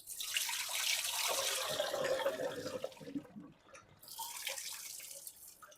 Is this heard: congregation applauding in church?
no